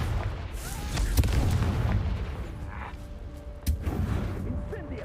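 Confringo fire spell explosions in the Hogwarts Legacy video game, rumbling booms and crackling blasts with a sharp hit near the end, set against continuous low combat noise.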